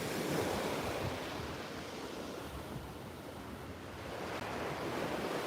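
Sea waves crash and surge beneath seaside platforms in a continuous loud roar of surf, with wind buffeting the microphone and no voices.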